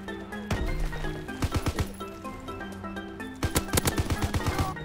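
Rapid bursts of automatic gunfire from Call of Duty WW2 multiplayer, with a couple of sharp close volleys separated by brief pauses and quieter shots between them.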